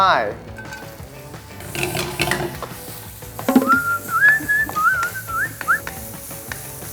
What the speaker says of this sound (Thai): ใส่น้ำมันลงไป รอให้ร้อนแป๊บหนึ่งดึดดึด ดึดเราก็จะใส่แครอทลงไป